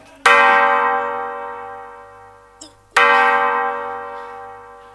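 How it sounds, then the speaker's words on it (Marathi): Two loud bell strikes ring out about three seconds apart, each with a long shimmering resonant decay over a low steady hum. "फक्त घंटा वाजतायत."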